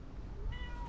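A cat gives one short, faint meow near the end, set against a low rumbling background with no talk.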